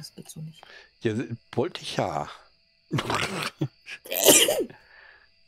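A sharp, loud sneeze bursts out near the end amid casual conversation between several people.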